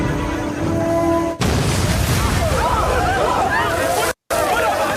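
A mine explosive thrown by a soldier into a grassy field in a film goes off as a loud, sustained broadband blast with crackling debris, filling the whole clip before a brief cut.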